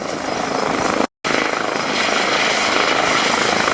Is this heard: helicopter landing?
yes